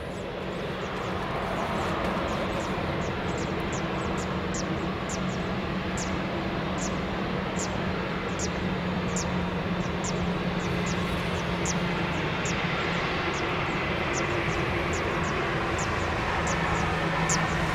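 A passenger jet at Lisbon Airport roars continuously on its takeoff run, a loud, steady broadband rush with a low engine drone holding throughout.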